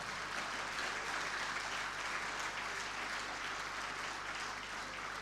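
Audience at a national environmental health excellence awards ceremony gives a steady round of applause, dense continuous clapping at even loudness throughout, with no talk over it.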